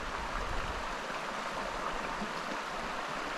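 Creek water flows steadily at Paint Creek Campground in Greeneville, Tennessee, a continuous close rushing and babbling with no break and no voices.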